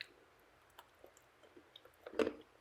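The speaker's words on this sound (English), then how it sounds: "So as I bite this, the chocolate tastes so good." Soft, close chewing of Ritter Sport milk chocolate with whole hazelnuts, with scattered small crunches and clicks and one louder bite near the end, heard alone.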